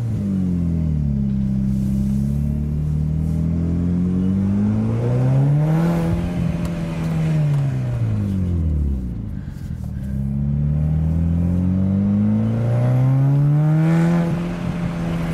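A Mitsubishi Evo 8 beater build revs loud and close as it goes up little rally ramps, engine pitch rising and falling in long sweeps, with a dip in the middle before climbing again.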